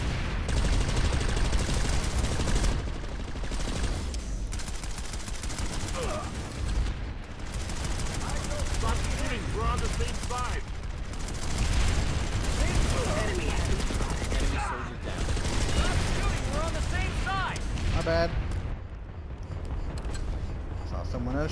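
Continuous distant and mid-range gunfire and explosions in PlanetSide 2, a busy layered battle with overlapping automatic bursts, heard under intermittent talking.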